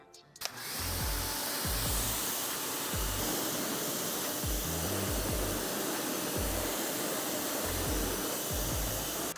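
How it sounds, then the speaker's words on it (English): A pressure washer blasts a car wheel clean during wheel prep after a cleaning chemical has soaked, producing a loud, continuous close-up hiss and roar with a motor pulsing steadily underneath. "we're just gonna pressure wash this to get that wheel clean"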